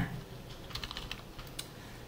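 A computer keyboard clicks in a short burst of keystrokes, several close taps ending in a firmer press of the Enter key, heard alone in a quiet room.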